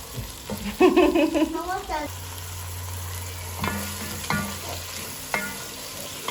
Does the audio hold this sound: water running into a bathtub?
no